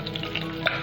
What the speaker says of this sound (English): While these are getting fried on slow fire, keep on stirring it from time to time.